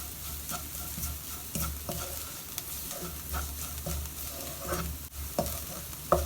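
Onions and spices frying in a pan for a chicken bun stuffing, with a steady quiet sizzle broken by repeated stirring scrapes and taps of a spoon against the pan, and no voices.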